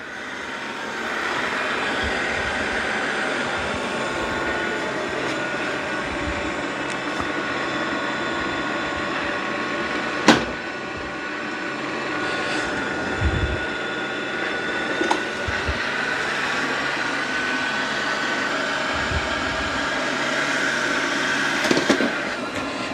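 An Essential Q011 or iRobot Roomba 105 robot vacuum cleaner runs close by with a steady whirring drone for the whole stretch, broken by a few sharp knocks and clicks as it bumps and turns. No one speaks.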